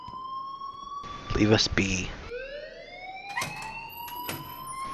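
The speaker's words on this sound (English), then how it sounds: "we're gonna sit around inside here with the alarms going off?" A high, steady electronic alarm sounds continuously inside the Life is Strange video game, holding rising tones throughout, with a character's voice speaking over it partway.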